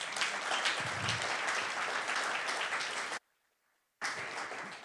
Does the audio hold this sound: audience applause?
yes